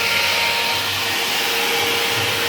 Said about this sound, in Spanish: Ahí, como podemos escuchar, el ventilador se está activado.